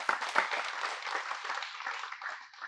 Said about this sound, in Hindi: इन दोनों के लिए ताली बजाएं।